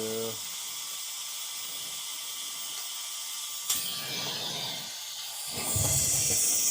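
A Roedix electric air duster blows a steady, loud hiss of air that continues throughout, with a sharp click partway and a stronger, harsher rush near the end as the power rises.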